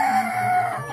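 A fighting rooster crows on a ranch, one loud, close, drawn-out call filling the second alone, with no talk over it.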